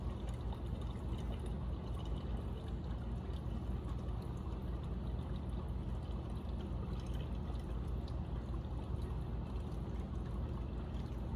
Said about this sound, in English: Pouring, pouring, pouring.